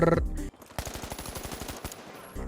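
Light-class weapon fire in the shooter game The Finals: a rapid, close, loud automatic burst of evenly spaced shots lasting about a second, bracketed by brief reload and handling sounds.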